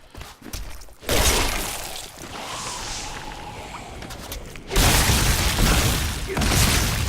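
Video game explosions in Diablo III: a loud blast with a rumbling tail, then a second heavy burst that roars on for a couple of seconds.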